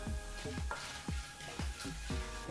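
Asafoetida, chana dal and urad dal frying in oil on a low flame crackle and sizzle softly, with repeated short bursts of spluttering and stirring in a quiet, close setting.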